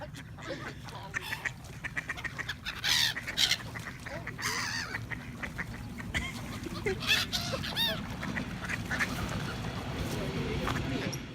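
Ducks and geese squabble while being fed bread, loud honks and quacks in bursts close by over a constant busy flock murmur, with some speech mixed in.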